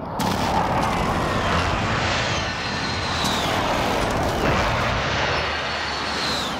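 Video game airstrike artillery explosions boom one after another with a loud, continuous rumble and roar, heavy and close, without talk.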